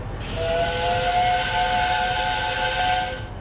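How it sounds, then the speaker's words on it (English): The steam locomotive Mallard sounds its whistle long and loud, a sustained chord-like blast with a hissing edge that holds steady for several seconds before cutting off, with no talking over it. "He puffed proudly past the sheds and whistled long and loud."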